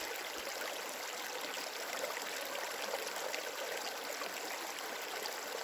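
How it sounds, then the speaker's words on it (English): Water poured through a bandana into a bag trickles steadily in a continuous splashing hiss, close and even throughout. "I'll pour that through my bandana"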